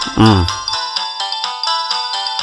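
A melodic phone ringtone plays steadily with repeating tones; at the very start a voice briefly overlaps the ringing.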